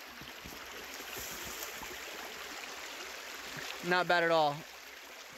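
Steady broadband rush of a rocky stream current flowing over rocks, continuous and fairly close, with a brief burst of a person talking near the end.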